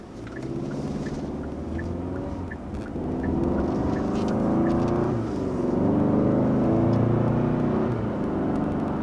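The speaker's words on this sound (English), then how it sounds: "as I come to a stop here, you see we have downshift rev matching going on" Turbocharged engine of a 2023 Kia Sorento rising and falling in a steady drone as it blips revs to match downshifts while slowing to a stop, heard from inside the cabin with no talking.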